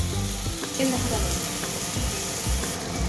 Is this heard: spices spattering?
yes